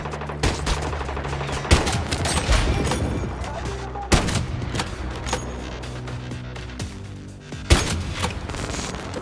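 Sniper and other gunfire in a shooter video game, sharp loud cracks every few seconds over a steady low hum of game sound.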